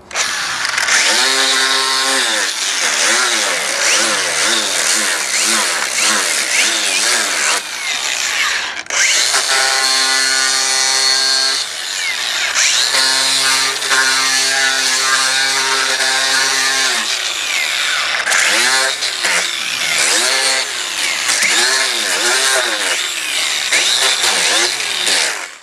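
A chainsaw carves a simple wooden snowman, its engine revving up and down in long, loud, close bursts as the chain bites into wood, with brief pauses and changing pitch between cuts.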